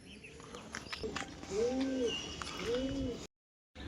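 Two soft, low pigeon coos sound close by, one after another, over a faint background of chirps and rustling, then a brief silence.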